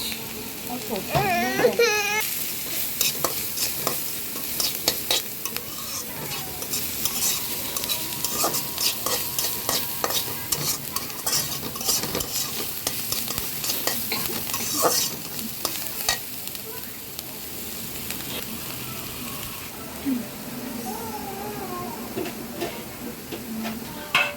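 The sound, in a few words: garlic and onions frying and being stirred in a pan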